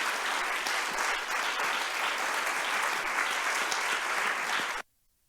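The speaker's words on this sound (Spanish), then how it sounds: "Vamos a darle un fuerte aplauso a Cristo" A church congregation claps steadily and loudly through a Sunday morning Christian service, a dense sustained round of applause that cuts off abruptly near the end.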